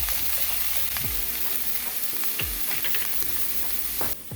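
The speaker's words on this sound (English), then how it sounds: "You can let this saute for about a minute and a half to 2 minutes on a low medium flame." Garlic-based sauce for jerk shrimp rasta pasta sautéing in a pan over a low-medium flame: a steady, close, continuous sizzle with occasional light stirring taps, no talking.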